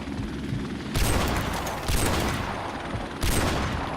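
Grenade blasts and gunfire in the Call of Duty video game: a steady roar of battle that bursts louder three times, with heavy hits about a second apart, close and loud, with no speech.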